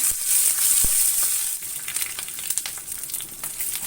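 Green chillies fry in a pan with dal and garlic, a continuous bright sizzle with soft stirring scrapes and crackles, close and fairly loud.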